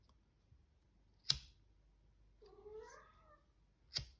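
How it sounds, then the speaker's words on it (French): A cat gives one drawn-out, wavering meow close by in a quiet room, bracketed by two sharp clicks, with no talking. "là, vous entendez mon chat"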